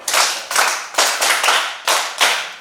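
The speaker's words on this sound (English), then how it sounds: "Clap for the boy." A small classroom group claps for a boy in a rhythmic pattern of about seven loud, close, sharp claps in quick bursts, with no voices.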